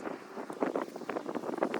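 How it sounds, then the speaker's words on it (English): Outdoor wind in Ventura, California, gusting against a microphone at a Halloween display setup, a soft irregular buffeting rumble with short puffs rising and falling, no voices. "There's a little bit of wind blowing right now"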